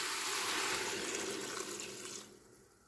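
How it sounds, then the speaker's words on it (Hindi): Water pours steadily into a pot of chicken curry as the broth is made, a full, rushing splash close by that tapers off near the end. "तो तकरीबन मैं इसमें 1/2 लीटर के करीब पानी ऐड कर दूँगी।"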